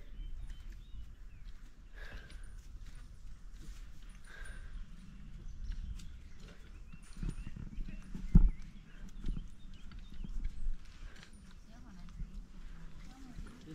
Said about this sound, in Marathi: बैल आले ते बघा